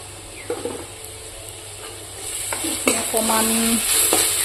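Vegetables with meat masala, coriander powder and garam masala sizzle and fry in a pan while a spoon stirs them, with scraping clicks and a steady hiss that grows louder and denser toward the end.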